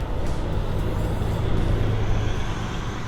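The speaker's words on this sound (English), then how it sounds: "There's a bus." Heavy engine rumble of a passing city bus on a street, a loud, steady low drone with road noise that holds for several seconds before easing slightly.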